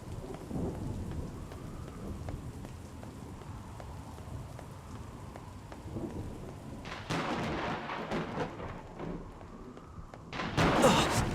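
Thunderstorm in the game NieR Reincarnation: steady rain patters throughout with low thunder rumbling, and a louder crash of thunder building near the end, with no speech.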